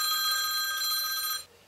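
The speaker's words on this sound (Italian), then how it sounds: "la suoneria più brutta del mondo l'hai scelta te?" A mobile phone ringtone sounds close and loud, a bright sustained electronic tone that rings steadily and then cuts off abruptly.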